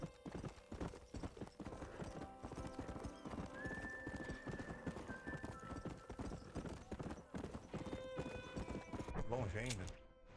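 In Red Dead Redemption a horse gallops, its hooves clip-clopping in a steady fast rhythm throughout. A whinny comes near the end, and someone talks over it.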